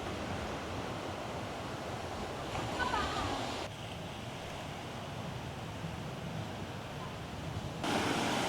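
Sea waves wash onto a Latvian beach near Tukums, a soft, continuous surf roar heard at a distance, with wind buffeting the microphone and a voice speaking over it.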